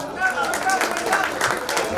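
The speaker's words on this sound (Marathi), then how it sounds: "यांच्यासाठी विशेष टाळ्या." A crowd at a bus depot staff gathering breaks into a scattered run of hand claps, rapid and uneven, mingled with voices talking over the applause.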